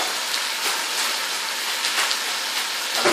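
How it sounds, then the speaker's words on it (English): Hands are washed under a running tap, giving a continuous close splashing of water with a few brief louder surges. A small clatter comes at the end. "I'm just washing my hands."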